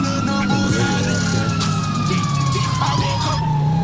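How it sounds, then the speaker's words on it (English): Police car siren wailing in the game GTA V with the LSPDFR mod, loud and continuous with a rising and falling tone over engine and traffic noise. "Turn the siren on."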